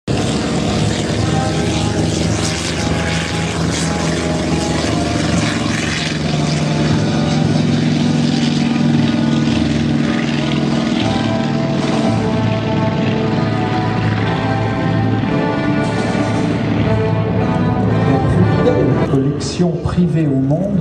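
Vintage propeller fighter planes from the Fighter Collection fly at the La Ferté-Alais air show in France, with a loud, sustained droning roar that shifts in pitch as they pass, heard alone without talk.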